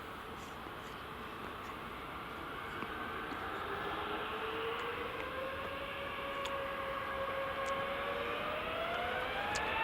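A Ryanair airliner departs runway 24 at Edinburgh Airport, its distant engine whine a faint, steady tonal drone that slowly rises in pitch over a soft rushing background.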